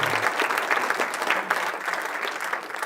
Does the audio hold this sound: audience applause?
yes